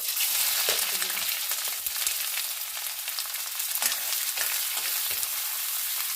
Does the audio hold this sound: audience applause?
no